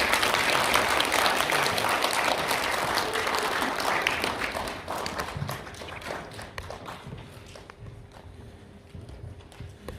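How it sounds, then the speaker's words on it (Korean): Loud, dense applause from a seated audience welcoming a guest lecturer at a talk on happy living with pets, starting full and gradually thinning out over about ten seconds. "박수로 환영해 주시기 바랍니다"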